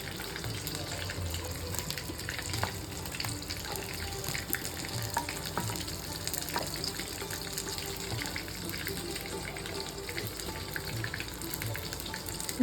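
Chicken pieces go into a pan of boiling milk and are stirred, giving a steady bubbling, sizzling wash with faint scraping all the way through and no talking.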